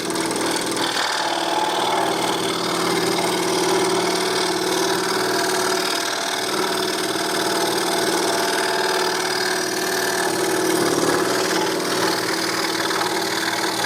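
A Hegner scroll saw cutting wood, with a steady, continuous buzz of the reciprocating blade running throughout at moderate, even volume with no talk.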